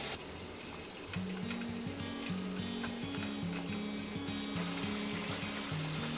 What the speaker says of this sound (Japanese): 流水で洗う。